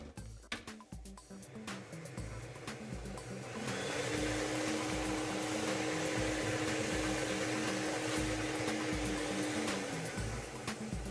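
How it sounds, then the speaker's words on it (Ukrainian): A lottery ball drawing machine at a televised Loto Zabava draw whirs up to a steady blowing hum, with balls rattling and clacking inside, moderately loud and continuous with no talk. "вмикаємо лототрон"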